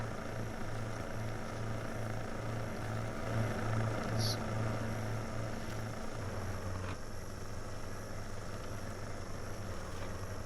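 Truck engine of the Titaneous Maximus 6x6 mod in Snowrunner, a steady droning hum with a strong low tonal note, holding loud and continuous throughout with a brief higher whine partway through.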